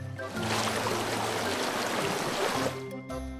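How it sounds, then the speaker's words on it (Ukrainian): Waterfall pours in a broad, steady roar that fills the scene for about three seconds before fading out abruptly. "Водоспад."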